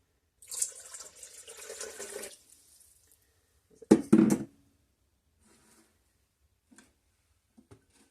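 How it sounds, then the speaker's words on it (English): Warm water poured into a stand mixer bowl for potato flake sourdough bread dough: a short splashing pour, then a sharp knock and a few faint drips and taps in an otherwise quiet kitchen. "So I'll pour that in my mixer. 1 cup of warm water"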